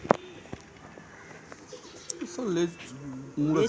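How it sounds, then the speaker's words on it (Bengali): Madrasi pigeons give low cooing calls, with a louder throaty coo near the end, amid handling noises, light footsteps and brief voice-like sounds close by. "এই হলো রাজু আরেকটা পায়রা, এটা নর পায়রা না এটা?"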